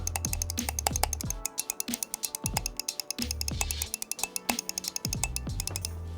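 Rapid, crisp plastic clicks of a Razer DeathAdder V4 Pro mouse's buttons repeat in quick bursts close up, a steady clatter of small button presses with no voices.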